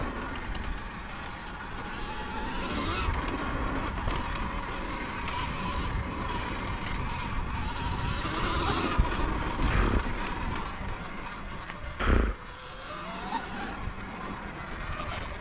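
A Surron Light Bee 72V electric motorbike with a BAC 4000 controller accelerates gently, its motor whine rising and falling over steady wind and tyre rush, close, with a brief thump near the end.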